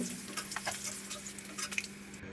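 Rohu fish frying in oil in a pan is turned over, bringing a faint steady sizzle with soft scraping and ticking touches of the utensil, close and quiet, with no speech.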